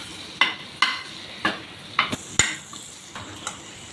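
Green chillies fry in melted butter, while a spoon stirs and scrapes the pan in sharp, irregular clicks over a faint sizzle, close and quiet, with no voices.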